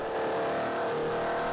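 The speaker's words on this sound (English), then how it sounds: "The hard induction sound is a big part of the character of these engines" Alfa Romeo 1600GT Junior four-cylinder engine on a club track day, captured from under the hood: a loud, continuous hard induction roar at high revs, dense and slightly distorted, with no voices.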